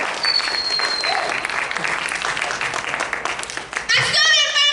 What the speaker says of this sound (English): Give them a hand, folks.